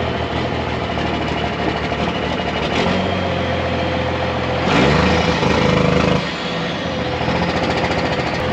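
A diesel truck engine idling in cold weather, rough and uneven as it sputters, with a continuous loud rumbling rattle that rises briefly in the middle before settling back.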